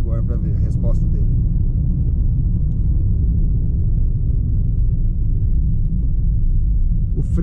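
A 2018 Ford Ka 1.5 SEL engine pulls hard on the road in fourth gear, a steady, loud low drone and rumble building throughout, with road noise underneath.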